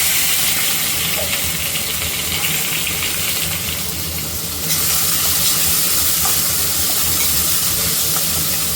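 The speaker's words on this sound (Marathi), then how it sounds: "कांदा चांगला परतून घेते" Onion sautéing in oil in a pan on a gas stove, a loud continuous close sizzle and hiss that briefly dips and then surges again, with no talk over it.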